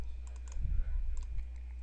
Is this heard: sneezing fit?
no